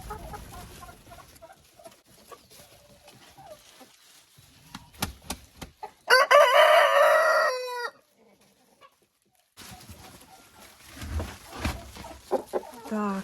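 Leghorn and other hens in a henhouse enclosure, a loud burst of clucking and crowing-like calls mid-clip, with quieter poultry sounds before and after and scattered farmyard noise.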